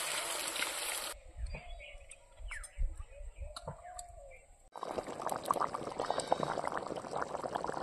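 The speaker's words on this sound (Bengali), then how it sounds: "ঝোলের জন্য জলটা দিয়ে দিলাম।" Water poured into a pot of Bengali mutton curry with potatoes to make the gravy, a broadband splashing rush that starts loud, drops away, then returns strongly as a steady close pour.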